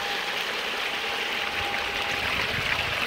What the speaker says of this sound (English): reasonable amount of water flowing over there